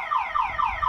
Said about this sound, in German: die Alarmanlage löst den Vollalarm aus